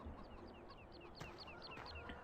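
Chickens cluck at a coop in Farming Simulator 17, with a steady run of short, evenly spaced clucks over a constant low farmyard hum.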